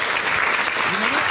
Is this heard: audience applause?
yes